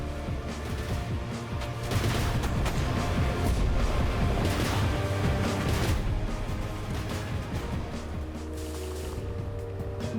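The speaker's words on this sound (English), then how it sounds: "These cannons are insane with their fire output." Vehicle-mounted cannons in the apocalypse sandbox game Badlands Crew fire in dense, continuous bursts over a rumbling engine drone, loud and rapid throughout with brief surges of heavier blasts.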